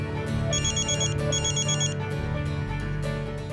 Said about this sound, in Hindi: एक मिनट बड़ी नानी, उसी का फोन है